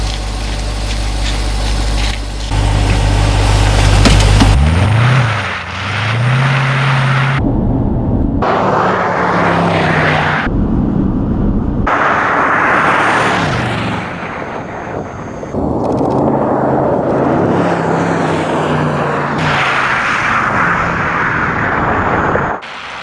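A Jeep Grand Cherokee Trackhawk roars at high revs during a speed record run on ice, its engine note climbing and dropping through gear changes, broken by sharp cuts and bursts, loud and close with no talk.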